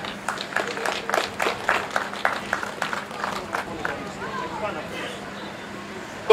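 Crowd applauding the winner of a tractor pulling competition at an outdoor event, scattered hand claps at a steady pace that thin out toward the end, with a loudspeaker voice and chatter underneath.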